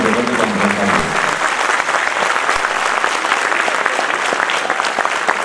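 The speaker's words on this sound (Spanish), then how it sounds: "Fuerte el aplauso, fuerte." A festival crowd in Samacá applauds loudly for the mayor at an evening event, a close, loud, continuous roar of clapping that holds steady for several seconds.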